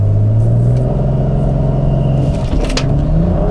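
A 2017 BMW X4 M40i launches hard, its engine roaring loud and close as revs climb steadily through a full-throttle 0-60 run, with a brief shift dip partway through.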